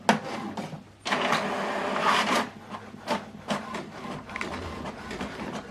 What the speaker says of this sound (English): So this document is printing via Wi-Fi direct.